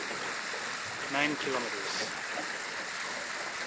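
Steady rushing flow of the Talkeetna River, a constant broadband wash close by with someone speaking briefly over it.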